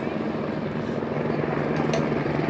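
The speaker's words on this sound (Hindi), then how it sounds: "वहाँ से हेलीकॉप्टर भी उड़ते हुए दिखाई देंगे जो कि आपको नीचे फाटा से ऊपर की ओर लेके जाते हैं" A helicopter flies near the Kedarnath helipad in the Himalayan mountains, ferrying pilgrims up from Phata, producing a steady, loud rotor drone that stays constant and fills the whole stretch without pause.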